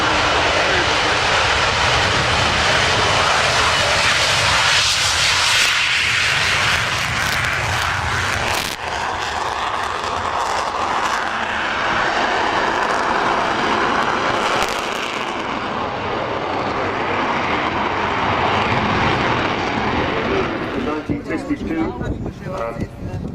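An Avro Vulcan jet bomber begins its takeoff roll at the RIAT 2013 air show, its engines producing a loud, sustained roar that surges and rumbles across the whole stretch, with a commentator talking over it.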